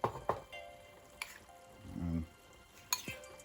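Canned, precooked ackee goes into a pot of simmering seasoned rice. A few quiet utensil clinks are followed by a brief soft sizzle and stir in an otherwise hushed kitchen.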